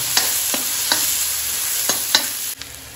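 A steady sizzle of vegetables being tempered in hot oil, with a few sharp clinks of a utensil stirring the pan, close by.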